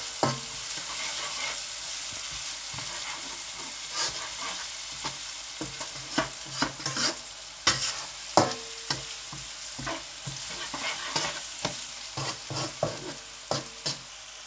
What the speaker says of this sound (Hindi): प्याज को ऐड करके मैं इसकी जो आंच है उसको बिल्कुल हल्का कर दूंगा, ताकि प्याज आराम आराम से पके।